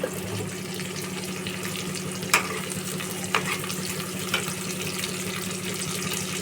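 Cauliflower manchurian ingredients frying in a pan, a continuous close sizzle broken by a few sharp stirring clinks.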